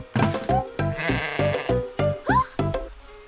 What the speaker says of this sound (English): clearly this sheep is not happy and trying to get away